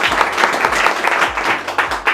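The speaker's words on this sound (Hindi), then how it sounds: "तो एक बार प्रशांत सर के लिए ताली हो जाए" Applause for a mechanical instructor at an AC, fridge and washing machine PCB repair institute, a small group clapping steadily and loudly for the whole stretch with no voices over it.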